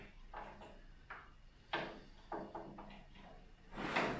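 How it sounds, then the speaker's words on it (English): Drawers of a restored Crypton Motorscope 335 being worked in and out, giving a series of knocks and sliding scrapes at irregular intervals, some soft, some sharper and closer, ending with a brighter rattling clatter. "I knew these drawers would get me"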